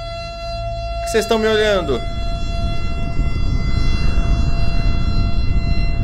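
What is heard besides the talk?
siren in video game Island Mistery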